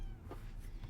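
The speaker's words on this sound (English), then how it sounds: "little kittens" Little kittens give soft, faint mewing calls, with a couple of brief meows against a dense, noisy background.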